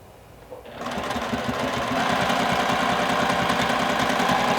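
A sewing machine stitches a seam across a large minky blanket, starting after a quiet moment and then running fast and continuous with a close, rapid mechanical rattle.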